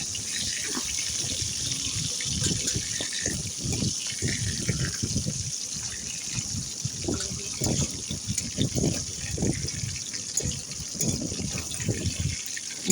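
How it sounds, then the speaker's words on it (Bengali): Fish bones fry in hot oil in a wok, with a constant crackling sizzle under a run of rhythmic scraping and stirring bursts close by. No one speaks. "এই যে ভালো করে কাঁটাগুলোকে ভেজে ভেজে নিচ্ছি আমি।"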